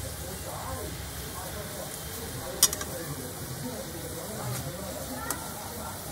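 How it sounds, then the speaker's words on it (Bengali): Sugar syrup for mango chutney boils in a pan with a faint, steady bubbling hiss, joined by a sharp clink or two, while a voice talks nearby. "আমার চিনির রসটা ফুটে গেছে।"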